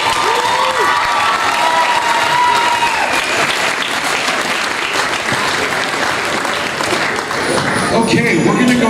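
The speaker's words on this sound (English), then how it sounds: "Another round of applause," Loud, dense applause from an audience for a performer at a winter music festival, with scattered cheers and voices mixed in before it changes near the end.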